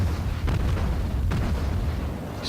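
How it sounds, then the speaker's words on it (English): Naval artillery fire in World of Warships with the American tier 4 cruiser USS Phoenix: two heavy booming salvos about a second apart over a constant low rumble of engine and sea noise. "He's firing at me"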